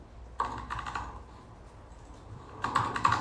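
Code being typed on a computer keyboard, two quick bursts of close key clatter separated by a short pause, quiet and without speech.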